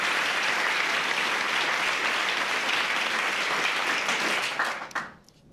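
Applause from a panel-discussion audience, a steady wash of many hands clapping that fades away quickly at the end.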